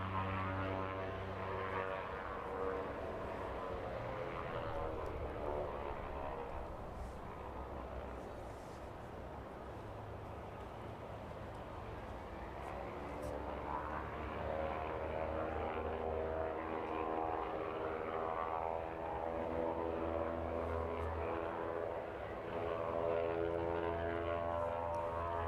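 A Jet2 airliner from Palma runs its engines at East Midlands Airport, a steady distant roar with shifting tonal whine that swells gradually over the whole stretch.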